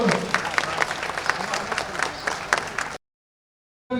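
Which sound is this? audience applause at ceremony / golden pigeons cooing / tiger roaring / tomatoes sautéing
audience applause at ceremony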